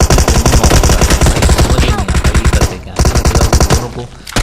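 Loud, rapid bursts of automatic gunfire from the mobile battle royale game BGMI in the Karakin map, dense and continuous with brief gaps near the end.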